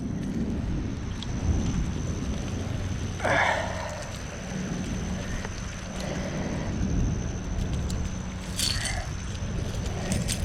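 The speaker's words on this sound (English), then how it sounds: "This rain is gonna be fierce." Steady rain falls outdoors by a bass fishing pond in summer, a dense continuous hiss with a faint low rumble, no talk.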